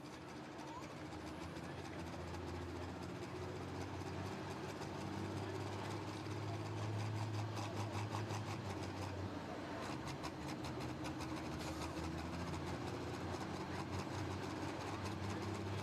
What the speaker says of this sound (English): another one of the Medding tractors out there out of Nordheim, Texas